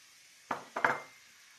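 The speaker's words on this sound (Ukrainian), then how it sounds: "І накриваємо кришкою" A metal lid is set onto a pan of cabbage steaming in milk, giving two or three quick, close clinks and rattles in a row against a quiet kitchen background.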